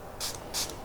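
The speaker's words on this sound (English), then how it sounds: "Now I'm going to just spray some on top" Two quick, close hissing bursts of spray varnish hit a watercolor painting in a short sequence, each a bright airy puff against a quiet background.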